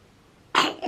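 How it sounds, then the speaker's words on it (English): A sick toddler coughs once, loud and close, with a sharp onset after a brief quiet stretch. "this cough that she's giving us right now is mild compared to how it gets in the evenings"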